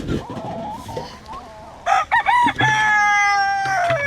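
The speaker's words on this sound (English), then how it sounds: "Hello, Mr. Rooster." A rooster crows loudly and close by on a farm, a drawn-out call after some soft clucks and rustling, ending in a long held note.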